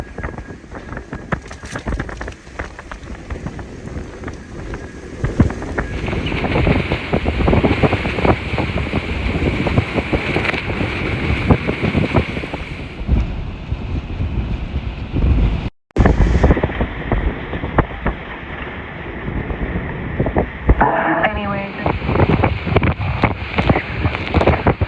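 Hurricane Ida winds in Thibodaux, Louisiana, a continuous roaring gale buffeting the microphone, loud and unbroken for the whole stretch apart from a momentary dropout, with rattling debris mixed in.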